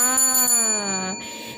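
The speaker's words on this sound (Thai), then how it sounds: "กดกระดิ่งให้เลยค่ะ" A bright ringing bell chime, like a notification ding, sounds alone at close range, its tone sliding slightly downward before a brief softer ring trails off.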